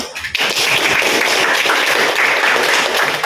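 Classroom applause after a group presentation, dense continuous clapping from many students starting abruptly and holding steady and fairly loud to the end.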